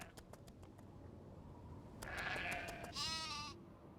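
Quiet, regular beeps tick along before a video game sheep bleats twice, the second bleat longer and clearer, fairly close against faint background noise.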